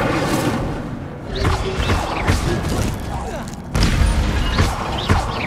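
Incendio fire spell cast in Hogwarts Legacy: loud whooshing bursts and booms in a dense combat mix, with a voice shouting the spell.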